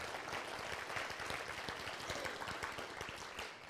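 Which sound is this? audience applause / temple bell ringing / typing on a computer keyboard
audience applause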